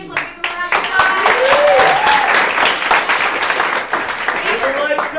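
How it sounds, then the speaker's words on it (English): An audience claps and cheers loudly at a live show, with steady applause filling the whole stretch while voices call out over it. "Let's give them a round of applause."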